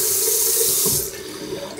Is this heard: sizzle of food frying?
no